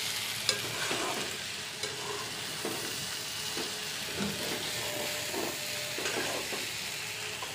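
Vegetables being stir-fried in a pan at home, with a steady sizzle and repeated scraping stirs at a moderate, close distance and no talking.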